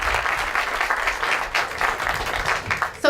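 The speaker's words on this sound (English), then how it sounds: "if you could just give him a welcoming round of applause" Steady round of audience applause at an outdoor golf course ribbon cutting and reopening, dense clapping from a sizable crowd sustained throughout with no talk over it.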